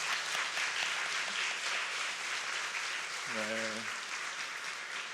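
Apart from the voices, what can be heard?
congregation applause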